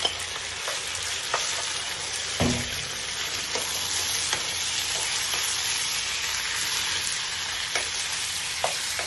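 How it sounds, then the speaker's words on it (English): Steady sizzling and crackling of chicken frying in a pan, continuous and close, with an occasional soft clink of a utensil. "the idea is to fry the chicken"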